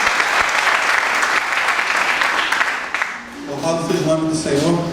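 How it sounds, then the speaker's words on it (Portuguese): A church congregation at a men's worship service in Inhaúma applauds in a loud, steady wash of clapping that fades after about three seconds, as an amplified voice and music come in near the end. "Vamos aplaudir a Senhor Jesus"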